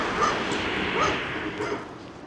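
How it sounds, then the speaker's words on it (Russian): Dogs barking near a house in a German village outside Magdeburg, two short sharp barks about a second apart over faint background noise, fairly distant. "собаки гавкают"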